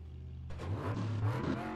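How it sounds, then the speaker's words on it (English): A car in Assetto Corsa launching with launch control: near-silence, then an engine snarls in and climbs sharply in pitch over about a second, loud and close with no talk. "So we definitely want to launch with launch control here"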